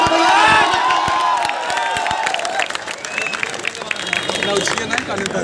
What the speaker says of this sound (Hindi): तो तालियों, जबरदस्त तालियों से स्वागत किया जाए।